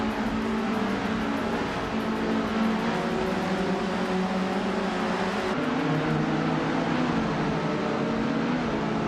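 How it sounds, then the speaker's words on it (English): A 1972 Estonia 18 Formula Junior race car in a racing video game holds a steady, loud engine drone throughout, with a slight shift in pitch partway as the revs change. "Uncle Tobin is driving a 1972 Estonia 18, and is currently in 3rd place."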